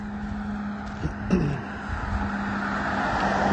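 Cars passing by on a road at night, a continuous broad roar of traffic with a steady engine hum and one brief louder swell as a vehicle goes past.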